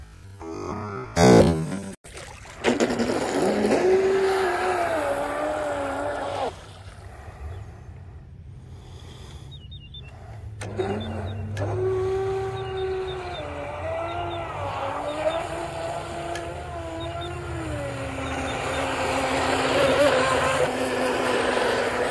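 A Blackjack 42 RC boat fitted with a very high pitch propeller runs on the water, its motor whining and shifting pitch through repeated passes, moderately loud with short pauses and a brief clatter near the start.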